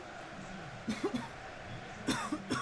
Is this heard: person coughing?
yes